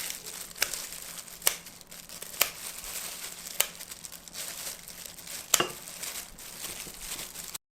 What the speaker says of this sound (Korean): 가위로 이렇게 잘라줄게요.